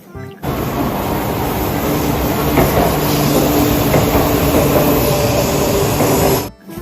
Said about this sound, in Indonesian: Widih, kereta api cepat.